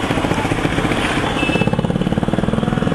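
A motorbike engine runs close by, a steady rumble that settles into a rapid, even chugging beat partway through, with no voices over it.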